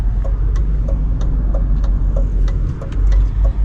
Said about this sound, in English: I see a Volkswagen Beetle coming at me.